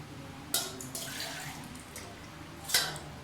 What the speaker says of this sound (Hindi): अब मैं पानी ऐड करती हूँ।